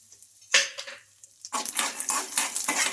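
Peanuts and chana dal fry in a kadai, with a metal spoon scraping and stirring them in brief clattering bursts over a soft sizzle, close up and without talking.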